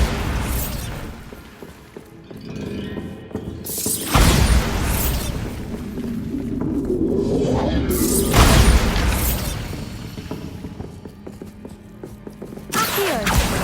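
Bombarda blasting-spell explosions in Hogwarts Legacy: several loud booming bursts, each followed by a rumbling, crackling tail, spaced a few seconds apart, with no talking.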